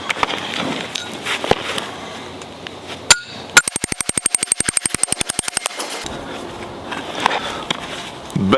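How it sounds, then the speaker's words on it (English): Half-inch or 5/8-inch steel rebar is hammered into the ground to punch a hole for an earth anchor, heard as a rapid run of about twenty sharp, close metallic blows in the middle, with outdoor ambience before and after. "I use this to punch my hole in the ground before I drive my earth anchors in the ground."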